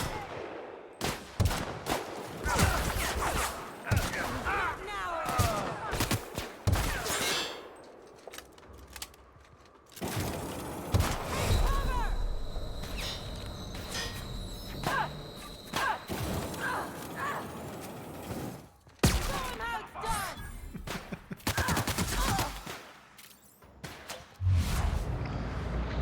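Rifle fire in The Outer Worlds, with rapid bursts of sharp shots and clattering impacts across a long firefight, pausing briefly before resuming with dense, loud volleys.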